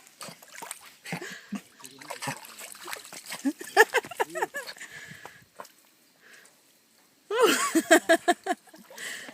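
Dudu paddles and splashes in the water at Ribeirão das Lajes, with irregular nearby splashes and dribbles in uneven bursts, ending in a louder flurry of splashing.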